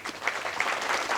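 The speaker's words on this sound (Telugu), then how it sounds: "మనందరం చప్పట్లు" An audience at a Telugu talk on karma breaks into steady applause, dense clapping from many hands filling the room, loud and continuous throughout.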